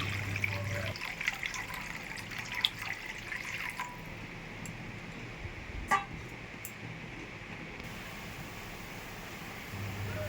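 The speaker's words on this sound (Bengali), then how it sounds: "পরিমাণ মতো জলটা দিয়ে দেব।" Water is poured into a cooking pot of fish-head and leafy greens curry, a steady wash of liquid with faint drips over soft kitchen background noise.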